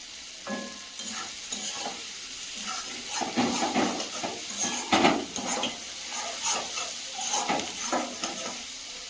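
Spice masala frying with salt and a splash of water in a pan, being stirred while capsicum cooks through for a Bengali fish curry; a steady close sizzle with scraping spoon strokes and clinks, no voices.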